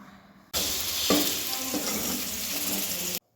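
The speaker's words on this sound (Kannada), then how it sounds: "ಸಾಂಬಾರು ಒಂದು ವಿಜಿಲ್ ಬಂತಲ್ಲ ಅದಕ್ಕೆ ಒಗ್ಗರಣೆನ ಮಾಡ್ಕೋತಾ ಇದ್ದಾರೆ" Spices sizzle hard in hot oil while tempering a lentil sambar cooked in a pressure cooker, a loud steady frying hiss that bursts in suddenly and runs on before cutting off.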